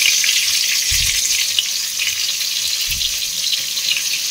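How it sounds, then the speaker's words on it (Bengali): Eggplant slices sizzle steadily in hot oil in a pan as they are flipped, a constant bright frying hiss with two soft low thuds from turning the pieces, no talking. "এইদিকে এখন বেগুনগুলোকে উল্টে দিই।"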